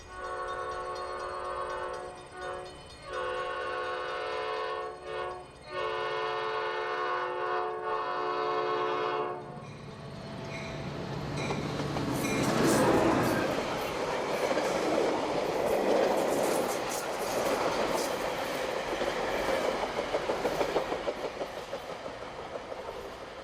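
A Metra Heritage Corridor commuter train on the 37-mile Union Station to Joliet route rolls past. A steady horn-like tone with brief breaks gives way to loud broadband rumble and rattling of the passing cars.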